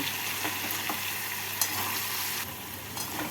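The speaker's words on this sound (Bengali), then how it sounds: "চিনি দিয়ে ভালো করে নাড়াচাড়া করে নেব" Potato and tomato curry with sugar being stirred in a pan, a steady close sizzle and fry with scraping stirs throughout and no talk.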